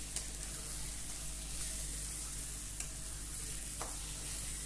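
Turmeric, salt and chilli powder get stirred into a frying curry base, a constant hissing sizzle with a few faint scrapes from a stirring spoon.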